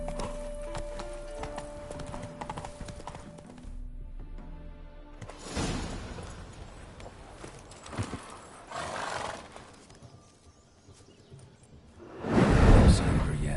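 Roach, a horse in The Witcher on PS5, gallops with rhythmic hoof clip-clops and whooshing movement, joined by a neigh, while game sounds and voices are mixed in and the sound swells near the end.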